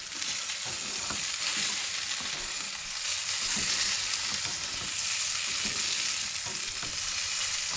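A steak at a Christmas cookout fries in its own juices, giving a loud, continuous close sizzle with small crackling pops, heard alone with no talking.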